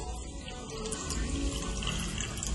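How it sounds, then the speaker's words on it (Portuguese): Tap water running at full flow into a jug, a continuous splashing gush heard up close. "A gente vai deixar essa torneira aberta, tentar deixar no máximo dela."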